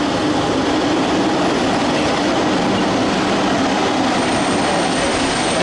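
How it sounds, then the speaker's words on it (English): A train arriving at a station platform in Hungary rumbles steadily close by, a dense, continuous roar of wheels and carriages rolling along the track with no voices. "the train we're waiting for comes here"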